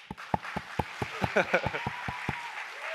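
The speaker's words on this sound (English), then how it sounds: "Let's have a round of applause for that." A handful of evenly spaced claps ring out in a conversation about creativity, while voices talk over the clapping partway through.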